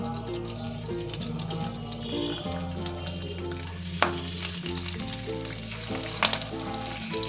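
Fresh curry leaves sizzle in hot oil while sabudana khichdi is cooked, a steady frying hiss under faint background music, with a couple of brief clinks and stirring knocks.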